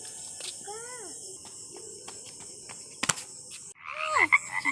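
A frog croaks outdoors in a few distinct rising calls. A voice and faint insect chirps can be heard nearby, and there is a sharp knock partway through.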